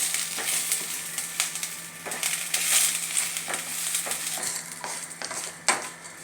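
Curry leaves sauté in a pan, giving a steady sizzling crackle broken by repeated scraping strokes of a stirring utensil, close and fairly loud with no talking.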